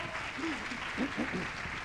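Sustained applause from an audience at a pastoral conference opening, a broad even patter of many hands with faint voices murmuring underneath.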